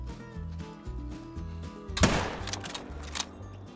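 Hunting rifle fire in theHunter: Call of the Wild, a loud crack with a rolling tail and then a quieter follow-up report, over low game music.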